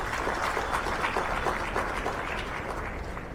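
Crowd at a Marathi public speech clapping loudly, a steady dense patter of many hands sustained for a few seconds.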